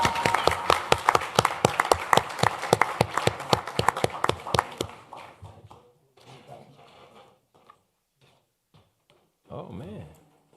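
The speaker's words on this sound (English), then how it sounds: "Yeah, we could clap for Tamara." Audience at a city council meeting clapping in a brisk, rhythmic burst that fades out after about five seconds, followed by quiet room sounds and brief talk.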